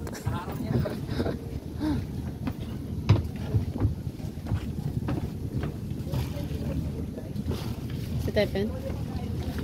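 Connecting boat on the water at El Nido, Palawan: a steady engine drone and wind buffeting with splashing water, while people talk nearby.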